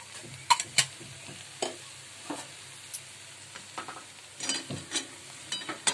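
Drumstick leaves stir-fried in oil in a pan, with soft scraping stirs and intermittent sharp clacks of a utensil against the pan over a faint sizzle, heard close and quiet with no talking.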